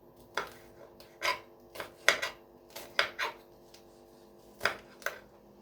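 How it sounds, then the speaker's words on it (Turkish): A knife chops sweet peppers into small pieces on a cutting board, about nine distinct crisp strokes in an uneven rhythm, close and quiet with no talking. "Bunları küçük küçük keselim."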